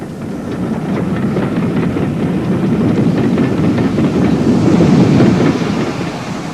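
A train hauled by a pannier tank locomotive on the Wye Valley railway on its last day in 1959 rumbles past in a continuous steady roll with faint rhythmic wheel clatter, and no talk.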